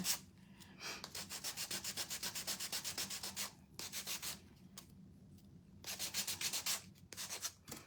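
Sandpaper rubbing the edges of green-painted wood to distress them, a rapid run of short rasping strokes in quick bursts with brief pauses, close and alone.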